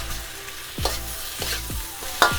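Fried rice with soy sauce stir-fried in a pan, with steady sizzling broken by several sharp scraping strokes of a utensil at a regular rhythm, close and alone.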